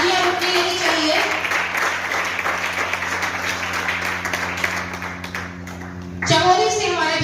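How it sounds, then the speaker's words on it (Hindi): A crowd at a political organization's meeting in Dehradun applauds continuously for several seconds under a low hum, then a loud amplified voice cuts in near the end. "तालियां रुकनी नहीं चाहिए।"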